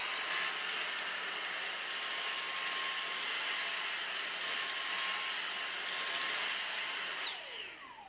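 A Dyson DC59 Animal vacuum cleaner with its mini motorized tool whines loudly and steadily while pulling pet hair from carpet, then winds down near the end, with no talking.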